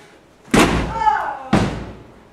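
Someone breaks down a door with two heavy, close slamming impacts about a second apart, each followed by a short rattling ring-out.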